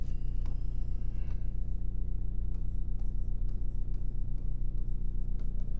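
Chalk or marker scratching on a board as a geometry proof about triangles is written during a Class 10 maths lesson, short faint strokes over a steady low hum, with no talk.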